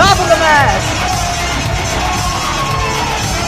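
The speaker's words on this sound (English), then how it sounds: "you can hear the crowd erupting at the sight of this rising young star" A wrestling crowd at a KCXW show roars and cheers, a loud sustained wash of shouting and whooping that holds steady throughout, with a few high voices rising above it near the start.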